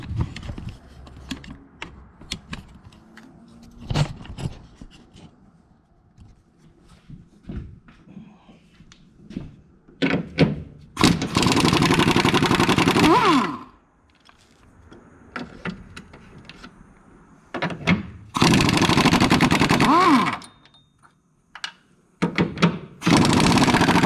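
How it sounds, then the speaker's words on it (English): Repeated long bursts of a power impact tool zipping out the strut top bolts on a Ferrari, each burst loud and close, separated by quieter clicks and handling noises. "take these bolts off the top"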